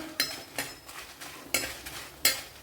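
Six dried red chillies roasted in a pan are stirred with a utensil, giving four or five distinct scraping strokes at an uneven rhythm, close and fairly quiet.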